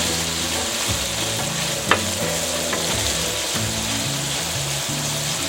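Zebra steak searing in a frying pan, a loud, dense, continuous sizzle with bubbling crackle and one brief tap near the start, heard close up with no talking.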